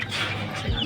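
Three-month-old chickens on open ground, a steady cluster of soft clucks and fowl calls close by, with a low thump near the end.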